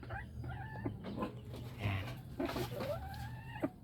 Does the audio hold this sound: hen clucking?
yes